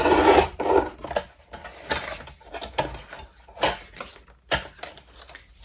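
A guillotine trimmer slices along a long die-cut card panel in a series of dry rasping, scraping strokes, close and fairly loud, with short pauses and small clicks between passes.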